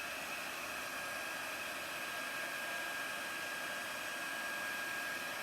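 A heat tool blows a steady, close, loud airy whoosh, constant throughout with no pause or change in level.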